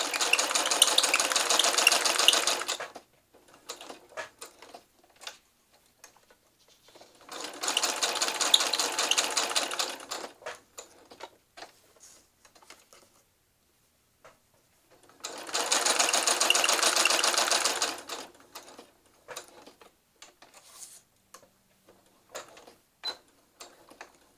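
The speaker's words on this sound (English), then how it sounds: "I apologize for the roar of the sewing machine" A sewing machine whirs loudly in three long stitching bursts of a few seconds each, separated by quiet pauses with small clicks and handling noises.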